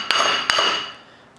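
Two sharp metallic hammer blows ring out on a stuck brake rotor of a 1991 Toyota pickup, close and loud, each strike leaving a bright ringing decay.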